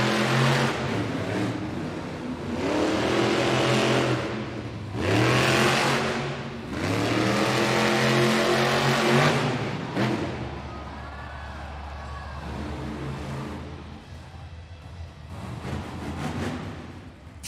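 Monster Jam monster truck engines roar through a racing lap at an arena event, with loud rising and falling revs in repeated surges, then settling to a lower steady drone.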